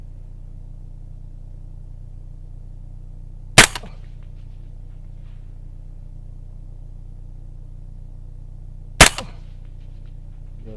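Two sharp, loud gunshots from an MK 18 Mod 1 carbine firing non-match ammunition, several seconds apart, each with a brief echo over quiet outdoor background.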